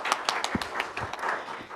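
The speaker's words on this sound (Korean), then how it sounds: "큰 박수로 모시겠습니다" A small audience at a Korean forum on retired firefighters' health rights claps briefly to welcome a city council vice-chair, with sparse, distinct hand claps at moderate volume for under two seconds.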